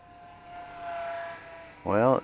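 Eachine Mini P47 Razorback 500mm wingspan RC airplane with gyro, flying while carrying a test weight: a thin whining motor buzz drifts past at moderate distance, then a louder close voice cuts in at the end.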